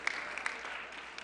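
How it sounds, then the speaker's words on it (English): A correspondents dinner audience applauds steadily, a dense, moderately distant clapping that holds at an even level throughout. "Folks, don't hold the applause in. Let it out."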